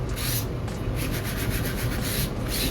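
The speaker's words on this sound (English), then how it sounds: "We're gonna rubbing every single wrinkle right out of this." Decoupage paper is rubbed smooth with a rad pad, giving continuous close scraping and swishing strokes in a quick back-and-forth rhythm, steady and fairly loud, with no voices.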